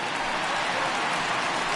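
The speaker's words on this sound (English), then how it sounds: "It looks like this rain is going to be around for a while." Rain falling steadily over a ballpark during a baseball game delay, a dense, even hiss of drops on surfaces throughout, loud and unbroken with no voices.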